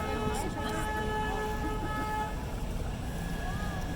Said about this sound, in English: So they honk up there because we can't see if there's boats around the corner.